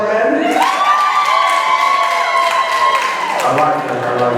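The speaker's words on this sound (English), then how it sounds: "Give me a round of applause again." Wedding reception guests cheer and clap loudly as a crowd, with whoops and children's shouts over a swelling roar that lasts several seconds.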